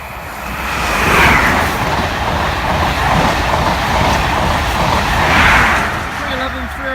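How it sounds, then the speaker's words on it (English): An HST high speed train rushes loudly past a level crossing, a broad steady roar that swells twice as the train goes by. "Here's a HST."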